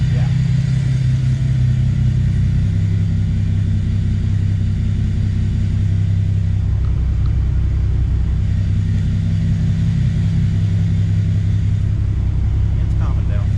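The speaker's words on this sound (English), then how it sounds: "definitely idling a lot smoother. Started up really nice too." A modified Toyota MK3 Supra idles close by, a steady, low, even rumble that keeps a constant level throughout with no revving.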